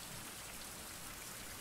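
Rain falling steadily in a survival video game, a constant soft hiss of drops with no pauses, faint and unbroken.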